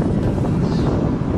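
Strong wind buffeting the microphone by the sea at an ebbing tide, a loud, rumbling low roar throughout with no voices.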